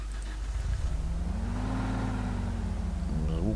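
Simulated engine of a GAZ-33023 Gazelle 4x4 van in the off-road game Spin Tires cranks and settles into a steady low idle hum, then revs briefly near the end; continuous and fairly loud with no talk.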